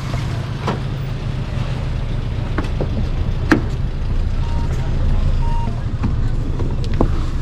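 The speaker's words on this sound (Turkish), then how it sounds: "Şimdi bizim arabamız geldi." A car pulls up on a Tehran street to collect passengers, its engine a steady low rumble close by with faint beeps and scattered street noise over it.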